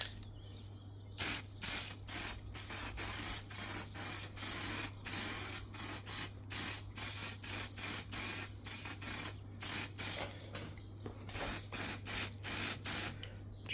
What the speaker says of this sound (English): just going to give this a little coat of zinc primer